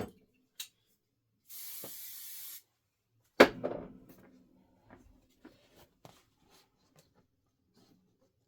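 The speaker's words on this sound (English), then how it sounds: "I'm going to spray it." One short hissing burst from a spray can aimed at fabric, about a second long. Before it comes a faint tap, and after it a sharper knock with scattered light clicks and handling sounds.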